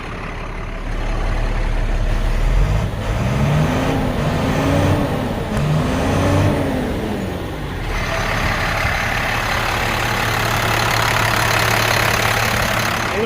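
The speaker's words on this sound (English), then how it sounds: "I'm going to rev it up so you can hear it." A 2007 International 4400 grapple truck's diesel engine is revved from idle, pitch climbing and falling in two or three swells before settling back to a steady, loud idle, heard up close with the hood open.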